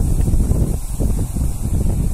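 Strong wind gusting over a rice field on a Japanese farm, a loud, steady roar with buffeting against the microphone and no talking throughout.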